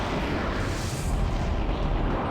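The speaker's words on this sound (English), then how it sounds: "Explosion!" A big explosion erupts during a boss fight in Skies of Arcadia Legends, a loud, dense, sustained roar of broadband noise that fills the whole moment without letting up.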